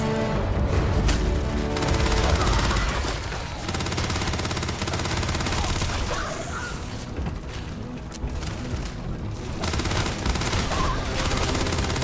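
Sustained gunfire in the space game Starfield, dense overlapping shots and booms forming a loud, continuous fusillade for the whole stretch with no talking.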